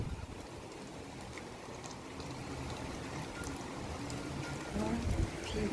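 Heavy rain pours steadily during typhoon and monsoon season at a seaside spot in Busan, a dense continuous wash with wind noise mixed in, growing slightly louder toward the end.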